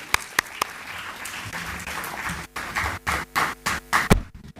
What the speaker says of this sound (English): let's put our hands together and give a warm round of applause to Dr.